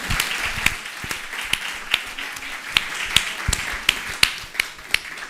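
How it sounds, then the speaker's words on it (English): Sparse audience applause at a healing-arts talk, a small number of distinct, crisp claps in an uneven rhythm rather than a full ovation, fairly close and moderately loud. "Warm applause to yourself."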